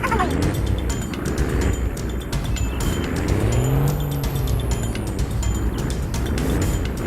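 Hino F18 truck hauling a heavy timber load uphill in Farming Simulator 19, its engine droning steadily and loudly throughout with shifting pitch as it labors, plus occasional high whine and squeal-like tones.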